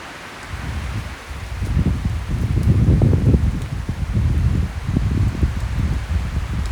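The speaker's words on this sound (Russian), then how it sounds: "ветер просто невероятной силы" Very strong stormy wind roaring through forest trees beside a stream, a loud, continuous gusting rush that surges and eases without letup.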